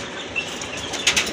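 A pigeon flaps its wings in two short, close bursts of fluttering, the second louder, over a faint background hum.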